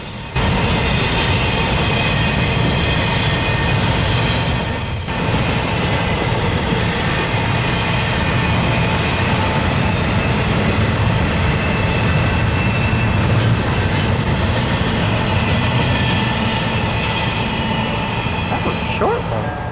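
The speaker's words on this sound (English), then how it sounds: "NS-8030 is a GE ES-44AC built in 2010, and NS-8391 is a GE C-40-8W built in 1993 as Conrail" Norfolk Southern diesel locomotives, a 2010 GE ES44AC and a 1993 GE C40-8W, passing loudly and close near Emory Gap, Tennessee, with a continuous heavy engine roar, rail rumble and faint wheel squeal.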